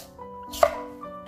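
A knife cuts radish into thin slices on a cutting board, with two or three crisp, close chops standing out against a quiet background.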